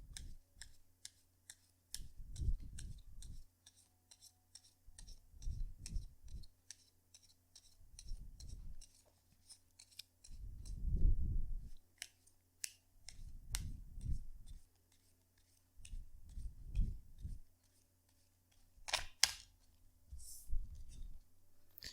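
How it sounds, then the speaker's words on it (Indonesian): Tarot cards being shuffled by hand before a reading, heard as bursts of soft riffling and slapping that come about every two to three seconds, with crisp ticks and clicks between them in a quiet room. "kartunya dikocok dulu sebelum kita mulai"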